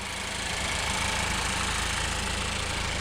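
A 2014 Ford Focus SE hatchback engine idles under an open hood, a steady, even mechanical hum with a faint ticking rhythm, close and constant throughout with no talk.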